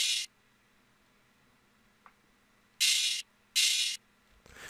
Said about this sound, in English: And then we put an open hi-hat as well in there